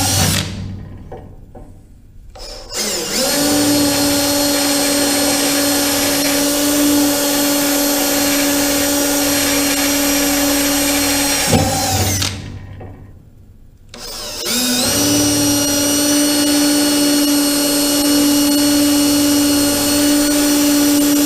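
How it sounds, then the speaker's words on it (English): A power drill with a 1/8 inch bit pilot-drills holes in a 1969 Charger K-member, loud sustained whining runs of about ten seconds each, separated by a brief stop and restart. "So I'm going to start with an 1/8 inch drill bit, and I'm going to pilot drill all these holes first."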